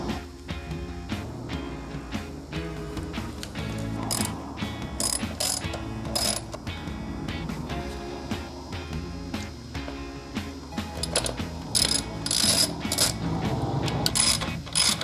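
A ratchet wrench loosens the negative battery terminal on a Yamaha XV125 Virago motorcycle, giving a continuous run of close, quick metallic clicks that swell louder toward the end.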